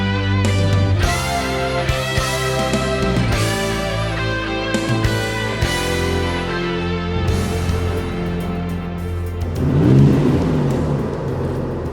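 A Porsche 993 Turbo accelerates on a countryside road, its engine note climbing through several surges with gear-change dips and a rising whooshing rush toward the end. The sound is loud and close, with no talking.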